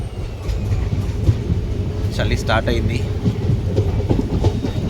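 Chennai SF Express 12604 rolling along a double-line track, a steady rumbling rattle of carriages heard from on board, with someone briefly speaking over it.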